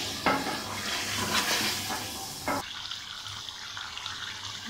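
Water poured from a glass into a pot of mutton aloo gosht, a steady splashing pour with faint sizzle that stops abruptly midway, leaving a quieter simmering hiss.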